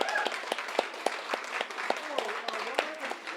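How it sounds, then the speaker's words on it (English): Applause at a bookstore author reading, with a fairly sparse crowd clapping steadily at close range; individual claps remain distinct and a few voices murmur underneath. "can we get another round of applause for David?"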